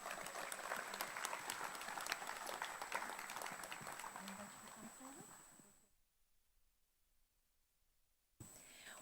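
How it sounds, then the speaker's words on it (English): Applause from the audience at an athletics federation opening ceremony rings out for about six seconds, drops to near silence, then briefly resumes, with a steady high tone running through it. "Ladies and gentlemen, please give them another round of applause."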